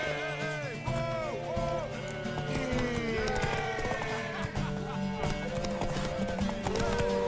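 Rapid hoofbeats of a galloping horse with a whinny in The Witcher 3: Wild Hunt, steady clip-clop rhythm under game music and occasional voices.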